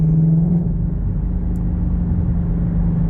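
Ford GT500 exhaust during rev matching, a steady deep low rumble held at constant loudness, smooth and continuous with no distinct blips.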